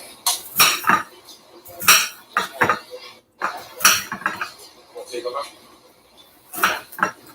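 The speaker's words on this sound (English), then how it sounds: "I'm over here chopping these" A small knife chopping food in a home kitchen, with irregular sharp clinks and knocks against a board and dishes, loud and close, as people talk intermittently.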